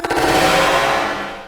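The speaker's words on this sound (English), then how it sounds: "When the lights go down, a Cummins technician sparks a contained blast." A loud, contained blast set off by a Cummins technician during a demonstration, a sharp burst at the start followed by a dense, roaring rumble that decays slowly over about a second and a half.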